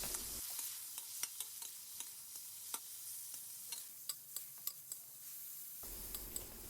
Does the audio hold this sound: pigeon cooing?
no